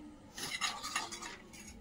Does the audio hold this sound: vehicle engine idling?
no